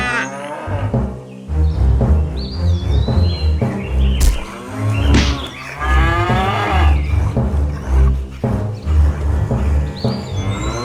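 Cartoon cows moo loudly and repeatedly over a busy animated soundtrack with music, and a few bird-like chirps and tweets break through at times.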